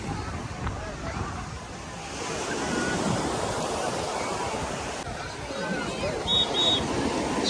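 Sea waves washing onto a beach in the north near Tetouan, a broad, continuous roar that swells after the first couple of seconds, with wind buffeting the microphone and no clear speech.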